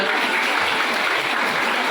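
Dense, steady clapping from a crowd at a school farewell ceremony, loud and continuous for the whole stretch.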